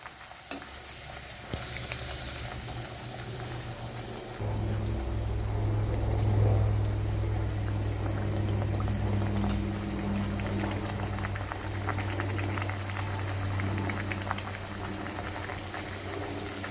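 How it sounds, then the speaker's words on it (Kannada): Chiroti dough frying in hot oil over a medium flame: a steady, dense sizzle and bubbling that swells around the fourth second as the dough goes in and then keeps crackling evenly, close and with no talking. "ಎಣ್ಣೆ ಕಾದಿದೆ. ಇವಾಗ ಹಾಕೋಣ. ಮೀಡಿಯಂ ಉರಿನಲ್ಲಿ ಬೇಯಿಸೋಣ ಇದನ್ನು."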